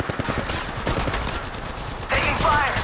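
Gunfire exchanges in the mobile battle royale Apex Legends Mobile, a rapid spray of shots that runs on steadily and swells louder near the end, with game voice callouts mixed in.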